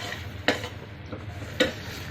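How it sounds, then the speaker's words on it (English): A spoon stirs a thick Ukkarai sweet mixture in a pan over low flame, with two sharp metallic scrapes against the pan and softer knocks over a low background hum, without speech. "and you have to stir."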